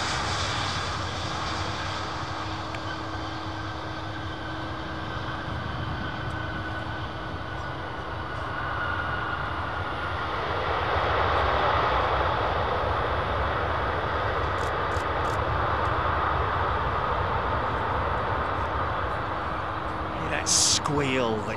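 A Boeing 737 MAX 8 airliner's jet engines roar steadily with a constant low hum, swelling louder about halfway through and holding there as the aircraft passes close by.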